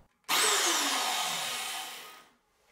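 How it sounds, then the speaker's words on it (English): A vintage drill-powered table saw with a wobble disc whirs up suddenly to a loud high whine, holds for about two seconds while slowly dropping in pitch, then spins down to silence. "Here we can see it mounted in the vintage drill powered table saw."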